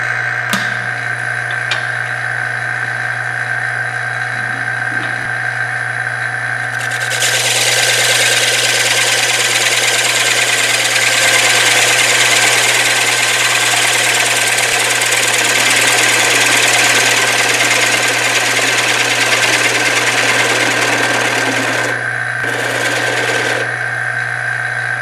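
A wood lathe hums steadily with the workpiece held in a chuck, then a tool makes a long, loud scraping cutting pass over the spinning wood before it eases back to the quieter motor drone.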